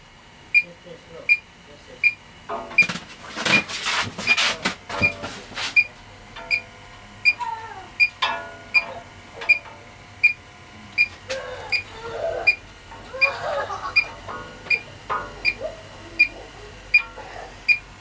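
An electronic HVAC refrigerant leak detector beeps in a steady, regular pulse throughout, close and fairly loud, with rustling, handling clatter and a brief burst of noise partway through.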